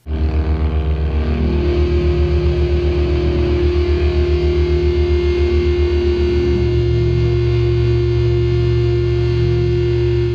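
Heavy, distorted doom metal guitar drone, with thick sustained low tones and a slow pulsing throb, loud and continuous with no vocals.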